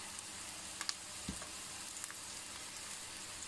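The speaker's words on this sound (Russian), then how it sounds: "Сюда добавляем печенку. Все вместе обжариваем." Chicken liver sizzles and fries in a pan with a soft, steady hiss, broken by a few scattered pops and a light stir or utensil knock partway through.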